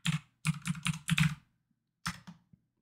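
Quick keystrokes on a computer keyboard as a folder name is entered, a run of about eight close, crisp clicks followed by a pause and two or three more taps, no voices.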